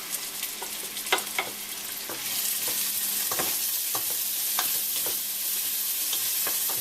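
Grated yellow squash and onions sizzle and fry in a pan, a soft continuous crackle broken by scattered stirring scrapes and taps, with no talk.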